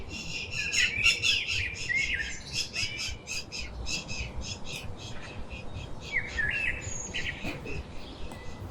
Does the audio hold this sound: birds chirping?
yes